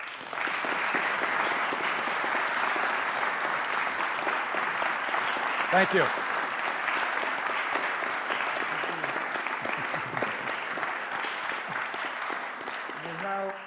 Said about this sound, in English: I'd like to very much just give another round of applause to